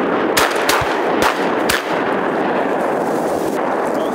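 Shotgun blasts during duck hunting in New Brunswick, four or five sharp loud reports in quick irregular succession early on, followed by open outdoor ambience.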